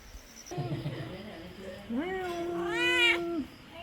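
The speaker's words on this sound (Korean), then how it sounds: "감은 고양이 네로 네로" A black cat meows indoors in Vietnam on a rainy morning: a short, lower call first, then one long, clear, rising-and-falling meow close to the listener.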